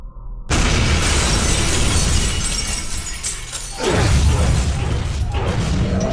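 A loud explosion in Binary Domain bursts in abruptly after a moment of quiet, then shattering debris and a second heavy blast roll on, full and close, with no voices over it.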